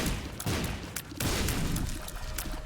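Bursts of explosions from the video game The Binding of Isaac Afterbirth+, several sharp cracking blasts in quick succession, fairly loud with no talking over them.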